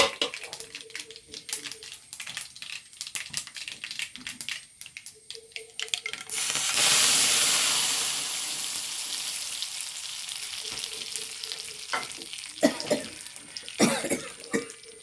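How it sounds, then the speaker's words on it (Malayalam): Tempering poured into a pot of sambar bursts into a loud, close sizzle that swells suddenly and then slowly fades, surrounded by clattering kitchen sounds and a few coughs. "വറവ് ഇതിലേക്ക് ഒഴിച്ചു കൊടുക്കണേ"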